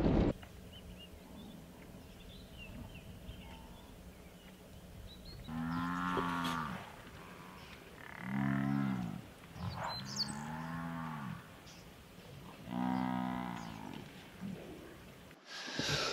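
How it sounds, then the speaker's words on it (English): A large herd of buffalo in Kruger National Park lowing, several deep drawn-out moos rising one after another at moderate distance, with quiet snorts and breathing between calls. "it looks like there might be another big herd of buffalo ahead."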